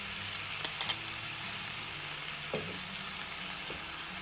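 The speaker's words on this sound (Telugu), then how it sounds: "ఇలా మొత్తం ఒకసారి కలుపుకొని ఇప్పుడు దీన్ని వేగనివ్వాలి." Sliced ivy gourd and onion frying in a pan for an onion-chili curry, giving a steady soft sizzle with a few light clinks of stirring and no talking.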